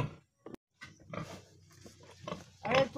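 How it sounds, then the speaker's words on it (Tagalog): A pig in a pen eats feed mixed with dewormer, with short grunts, snuffling and clattering against a feeder in close, uneven bursts amid brief silent gaps. "Pakainin na po natin ngayon guys yung ating alagang baboy."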